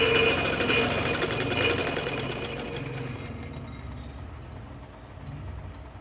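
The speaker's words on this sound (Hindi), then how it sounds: "यहाँ से सिलाई लगा के हम ऐसे साथ साथ फेरते जाएंगे और साथ साथ सिलाई लगाते जाएंगे" A sewing machine runs steadily while stitching a tarizon kurta, its rapid mechanical whir loud at first and then easing to a softer, quieter hum for the rest.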